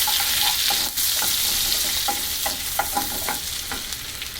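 Cumin, a bay leaf, cinnamon, cloves and cardamom fry in hot oil, making a loud, close, continuous sizzle punctuated by quick spatters and scraping stirs, with no talking.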